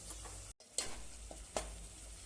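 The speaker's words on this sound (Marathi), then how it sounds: "हे बघा आपला कांदा लसूणचा मसाला परतवत त्याला तेल सुटलेलं आहे" Onion and garlic masala frying in released oil for a village-style mutton curry, a soft steady sizzle with faint scraping stirs and a brief dropout.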